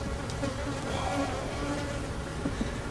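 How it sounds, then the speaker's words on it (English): Agitated honey bees swarm loudly around a hive, a dense continuous buzzing drone filling the whole stretch, close and steady with no talk. "Oh, what's going on with these bees? They are really upset."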